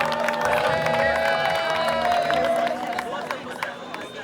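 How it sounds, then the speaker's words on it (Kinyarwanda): Live audience at a Rwandan music show cheering and clapping, a continuous crowd roar mixed with whoops and loud music, with an amplified voice talking over it. "mukomera amashyi menshi"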